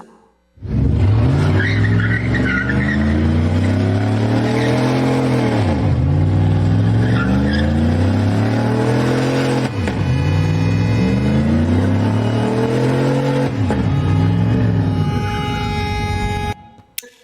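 A pickup truck does a burnout on a rainbow crosswalk in Delray Beach, Florida, its engine revving hard and its tires squealing loudly in repeated rising-and-falling surges for about fifteen seconds before cutting off.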